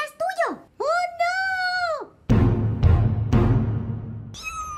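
Two cats meowing at home, several clear, loud mews in close succession, followed by a person talking over some rustling.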